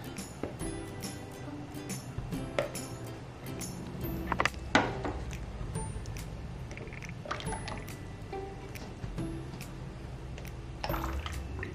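Cold process soap batter is poured into a mould for a coconut-themed soap, a wet trickling, dripping pour with small splashes and clicks from the container that continues throughout.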